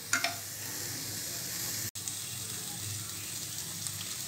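Butter melts in a pan with a steady, bright sizzle, a broad continuous hiss broken by a single brief dropout.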